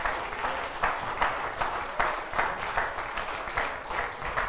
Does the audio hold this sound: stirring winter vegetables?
no